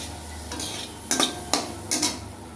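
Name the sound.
stirring semolina for suji pulao in a pan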